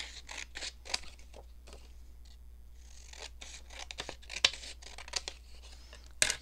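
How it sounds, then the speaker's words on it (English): Scissors snip through a paper craft tag in a quiet room, several crisp cuts with short crinkling rustles between them, close and fairly soft, with a couple of sharper snips near the end. "Okay, I'm going to cut this just a tad smaller."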